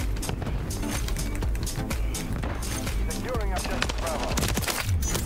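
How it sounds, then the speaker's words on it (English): Rapid gunfire bursts in a first-person shooter match, dense and continuous across the clip under heavy game sound effects and background music, with louder cracks near the end. "I saw some gunfire to my right"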